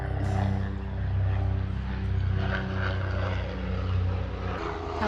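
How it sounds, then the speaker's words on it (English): A helicopter passing overhead gives a steady, loud throbbing drone with a pulsing rotor beat that swells and eases gently, heard alone without voices. "Helicopter."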